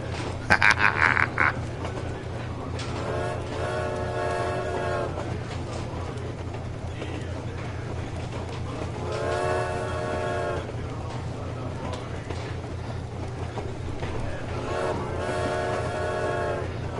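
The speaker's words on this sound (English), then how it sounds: "honk the horn." Train horn honking three times in the video game Metro Exodus, each blast a sustained harmonic tone of a few seconds, spaced evenly over a steady low rumble of the moving train.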